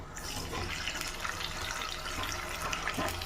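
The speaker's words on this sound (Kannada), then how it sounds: "1 ಲೋಟದಷ್ಟು ನೀರು ಹಾಕೋಣ." A glass of water poured into a hot pan of mustard-seed tempering for Gujarati-style dhokla, a steady splashing gush that runs for a few seconds with no talk.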